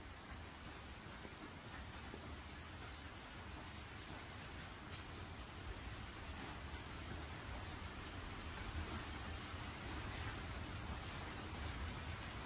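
Steady rain falls without pause in a Hindi-dubbed anime film, a faint, even hiss throughout with no voices.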